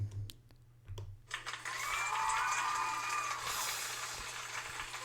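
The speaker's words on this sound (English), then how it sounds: "So I can give us a little cheer." A crowd cheering and applauding as a sound effect, rising after a few soft taps and holding steady at a moderate level to the end.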